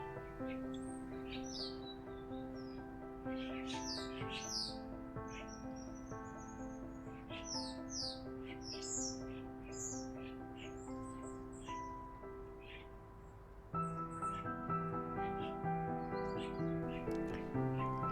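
Several small birds, tits, chirp and trill high above a sustained musical backdrop in a garden, their calls scattered and moderately near, with no speech.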